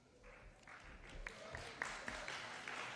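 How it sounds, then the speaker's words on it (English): An audience at a Texas congressional redistricting hearing in Houston claps, a faint, distant, continuous patter of many hands with a few sharper claps standing out over roughly three seconds. "I'll allow you to clap for that one"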